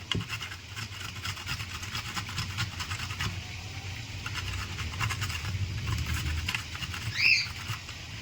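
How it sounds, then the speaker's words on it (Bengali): Bitter gourd is rubbed against a hand grater in quick, repeated scraping strokes, a close rhythmic rasping that continues throughout at a moderate level. "এই উচ্ছেগুলো আমি গ্রেটারের সাহায্যে এরকম আমি গ্রেট করে নেব"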